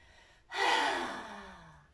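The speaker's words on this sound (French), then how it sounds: "On appelle ça la respiration du lion." A single forceful lion's breath exhalation in yoga, tongue stuck out toward the chin, comes as one sudden, breathy rush that swells quickly and then fades away, close and alone.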